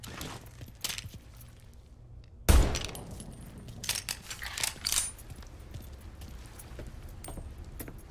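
Car keys jangle and clink in the video game Mafia III, a sudden close metallic rattle followed by scattered lighter clinks over quiet background ambience.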